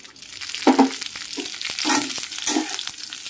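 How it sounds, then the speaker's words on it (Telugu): Crushed garlic stir-fried in oil for a dry garlic chutney powder, a steady close sizzle broken by repeated scraping strokes of a ladle against the pan, with no talking. "చెయ్యి వదలకుండా ఇలా వేయించుకుంటూనే ఉండాలి"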